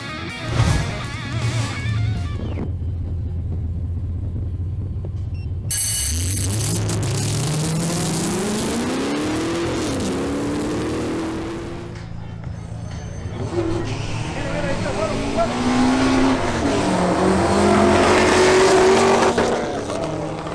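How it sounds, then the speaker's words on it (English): A supercharged Chevrolet Camaro SS at a drag racing qualifying session idles loudly, then launches and accelerates hard through rising gears, its engine roaring close and fading as it runs down the strip, while an announcer talks over it. "The next to qualify is Jorge Tamayo in his supercharged Chevrolet Camaro SS."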